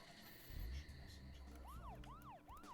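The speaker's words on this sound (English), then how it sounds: "Put the sirens on." A police car siren in the video game Deadly Premonition starts up partway through, rising and falling in three quick repeated sweeps, fairly quiet over a low engine hum.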